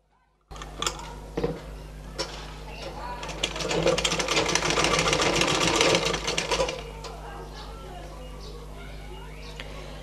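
A sewing machine stitches a one-piece hijab, starting with a few short clicks and bursts, then a sustained run of rapid stitching for about three seconds before slowing back to intermittent taps.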